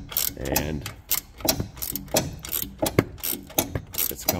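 A hand ratchet works loose the bolts on the strut knuckle of a 2017 Lincoln MKX, giving close, loud bursts of rapid clicking in uneven strokes with short pauses between them.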